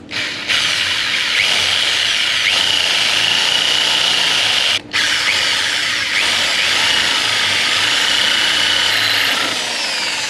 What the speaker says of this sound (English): Just going to drill 2 holes.